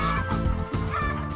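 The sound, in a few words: free-range laying hens on a farm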